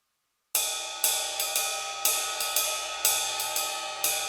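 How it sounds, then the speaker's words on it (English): Ride cymbal on a drum kit plays a basic jazz swing pattern, bright shimmering strikes in a steady lilting rhythm over about four seconds, close and alone after a brief silence. "And that's our basic ride cymbal pattern."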